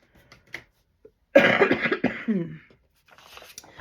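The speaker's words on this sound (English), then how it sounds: "please forgive me for that hacking cough." A single harsh, wet hacking cough fit from someone with fluid on the lungs, close and fairly quiet, bracketed by faint breaths and throat noises.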